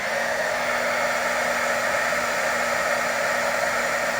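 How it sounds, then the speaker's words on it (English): A heat gun blows a steady, close hiss of hot air with a faint hum underneath as it melts embossing powder on paper. "So I'm going to turn my heat gun on."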